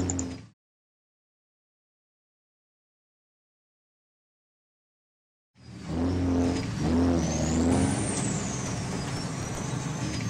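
A semi-truck engine in Garry's Mod racing on ice, heard after a long stretch of silence: a loud rumbling drone with rising revs and a high squeal over it, alone without talk.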